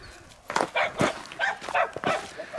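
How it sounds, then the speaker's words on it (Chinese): Two small dogs meeting on the road bark and yap at each other in quick, overlapping bursts, fairly close and loud. "这是别人家的小狗，这见面就要打架呀"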